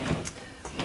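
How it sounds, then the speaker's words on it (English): A sliding door inside a tiny house glides along its track in one short, soft, steady rumble heard close by, with no voices. "So you see the door kind of slid"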